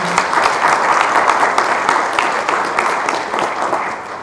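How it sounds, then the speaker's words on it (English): Audience applause at a live event, a loud, dense burst of many hands clapping that holds steady and then gently tapers toward the end. "So can you give Farha Saeed a big round of applause?"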